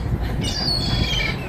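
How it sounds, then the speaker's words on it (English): Birds call aboard a ship, with shrill squawks and chirps rising over a dense, rumbling background at moderate loudness. "The birds have gone crazy. They're taking over the ship."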